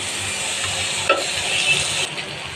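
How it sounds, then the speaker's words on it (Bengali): Spatula stirring and mashing a curry in a hot pan, a continuous sizzle of frying with scraping strokes and a couple of sharper knocks, close and fairly loud, no talk. "এবার আমি ভালোভাবে নেড়ে চেড়ে একটু ম্যাশ করে দিব"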